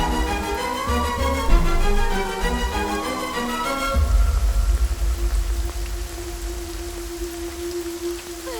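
Steady rain pours down at night in an Indian village, a broad continuous hiss that takes over after a few seconds of music and then runs on alone at a constant level.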